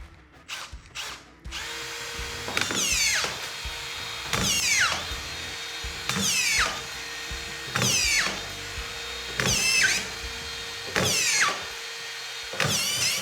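A Pam Fast autofeed screw system drives collated screws in a rapid series of about eight whirring, ratcheting bursts, each ending in a sharp high whine, evenly spaced and close, with no voices.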